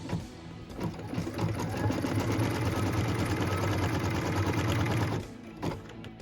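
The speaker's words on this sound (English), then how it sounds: "What we're stitching now is the tack down line for piece number 2." An embroidery machine stitches a tack-down line on fabric for a zipper pouch made in the hoop, a rapid steady mechanical whirring and tapping that holds for about four seconds, then stops. A few quieter clicks come before and after.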